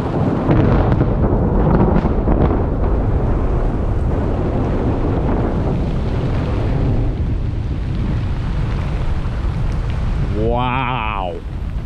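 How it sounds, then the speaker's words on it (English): Heavy spring storm rain pours loudly and steadily with deep rumbling thunder mixed in, easing slightly toward the end, when a brief squeaky wiper-like warble sounds close by. "just had more lightning"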